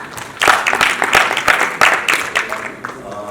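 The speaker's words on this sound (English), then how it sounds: "Give a lot of applause." An audience at a tech summit applauds after team presentations, a dense burst of many hands clapping that swells quickly, stays steady and then fades near the end.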